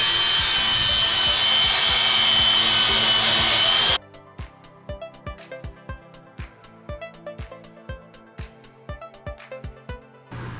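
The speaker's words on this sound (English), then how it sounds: "Now we have our lines, we can start grinding them away." Grinding across marked lines on a piece of wood gently clamped to a table: a loud, steady abrasive roar for about four seconds that cuts off abruptly, followed by a run of sharp, evenly spaced knocks.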